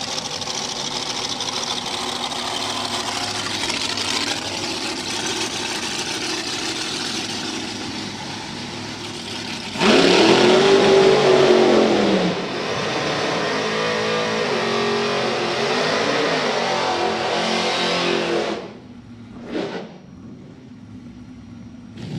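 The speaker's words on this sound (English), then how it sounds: "So, front engine dragster taking on supercharged door car." A front-engine dragster races a supercharged door car on a drag strip. Engines idle and rumble, then roar out loud at full throttle for a couple of seconds, followed by sustained engine noise that fades with a few short trailing bursts.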